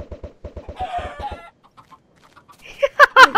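Chickens in the Tekkit Minecraft game cluck in a rapid run of short, loud bursts, followed by a brief pause and louder, squawking clucks near the end.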